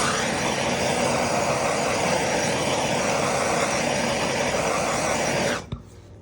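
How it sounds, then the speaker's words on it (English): A handheld torch flame blasts over freshly poured resin, tinted copper, to pop surface bubbles: a loud, steady roaring hiss that runs unbroken for about five and a half seconds, then cuts off abruptly and leaves near silence. "I'm just going to hit it with the torch, so excuse the noise."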